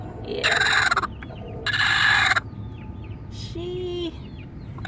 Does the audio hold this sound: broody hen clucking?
yes